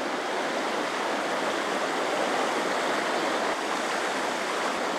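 A river flows steadily with a broad, even rushing wash at moderate distance, constant and unbroken, with no voices over it.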